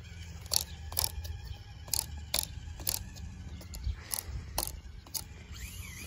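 A 1/24 scale RGT RC car's small motor whirs and its gears grind and ratchet in repeated short bursts as the throttle is pushed. The sound is close, rough and mechanical, with pauses between the surges and no talking.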